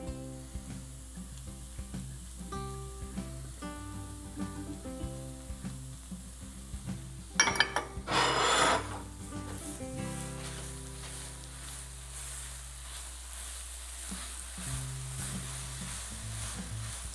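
Chhana cooking in a pan with sugar and condensed milk, giving a soft, low sizzle under repeated light stirring, with a brief louder hissing burst partway through.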